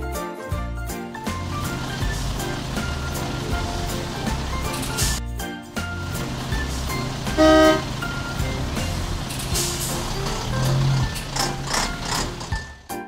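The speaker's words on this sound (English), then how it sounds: "School bus." A toy wooden school bus honks a short electronic horn tone amid busy toy music and jingling, with brief loud bursts rising above the steady background.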